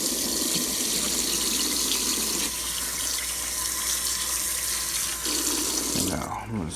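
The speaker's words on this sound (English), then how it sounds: "I'm gonna put some new water in there because it's already cloudy." Tap water runs steadily into a container holding fish fillets, a continuous bright splashing gush that continues at even strength, then cuts off near the end with a clunk as the flow stops.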